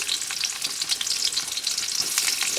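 Chopped onion and green chili sizzle and crackle in hot oil in a pan, a steady close-up frying hiss with bright pops and stirring throughout, no voices.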